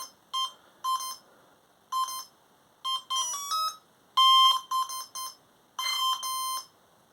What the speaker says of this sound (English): let's see if this beeping stops.